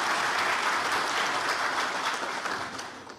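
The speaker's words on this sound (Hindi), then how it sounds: "तो एक बार जोर से तालियां हैं।" A crowd at a live event claps loudly and steadily for a few seconds, the applause thinning and fading toward the end.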